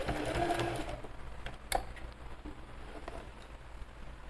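Sewing machine stitching a bag pocket with a backstitch: a brief loud burst of rapid stitching up front, then quieter intermittent mechanical taps and whirring close by.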